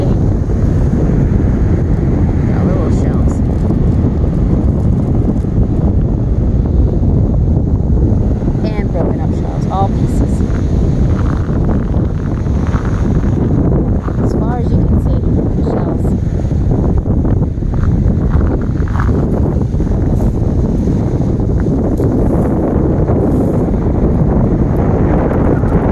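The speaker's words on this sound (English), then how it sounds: "But it's windy and it's rough." Strong wind buffets the microphone by a rough ocean, a constant loud roaring rumble with surf washing underneath throughout, steady for the whole stretch.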